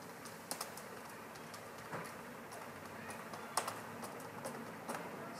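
Keys on a computer keyboard tapped in a sparse, irregular run of light clicks, fairly faint and close, with no voices over them.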